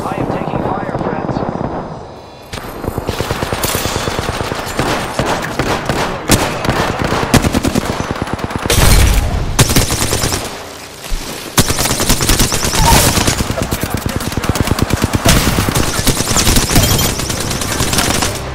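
Heavy gunfire fills a match in Apex Legends, with rapid automatic bursts, sustained rattling volleys and explosive booms, loud and nearly continuous with brief pauses, while voices talk over parts of it.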